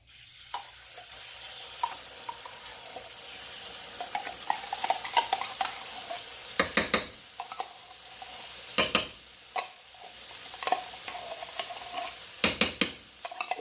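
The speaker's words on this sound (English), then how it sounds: "Now comes our cream of mushroom soup. And we're going to dump it right into our little roux right here we got going" Canned cream of mushroom soup is stirred into a roux in a pan while cooking smothered pork chops, a low sizzle underneath and several sharp scraping and clanking bursts from the spoon against the pot.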